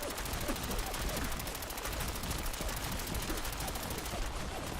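Dense, sustained automatic gunfire from a firefight in Fallout 4, steady rapid bursts filling the whole stretch at a constant level with no talk over it.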